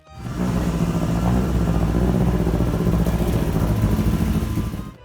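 A loud, sustained car engine roars close by at a racing car meet in Tocancipá, holding a steady, dense revving drone for about five seconds with no break.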